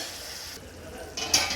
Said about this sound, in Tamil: அதையும் சேர்த்து நல்லா வதக்குங்க.